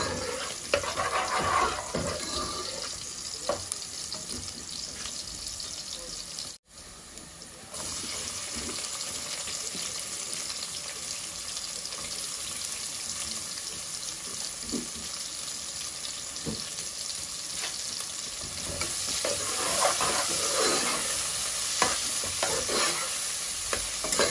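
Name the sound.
tomatoes being stirred and cooked with a spoon in a pot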